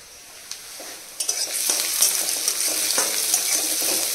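Marinated meat with garlic, green chili, ginger and tomato paste frying and being stirred in a pan, a steady close sizzle that swells after the first second, with scattered sharper pops and scrapes throughout.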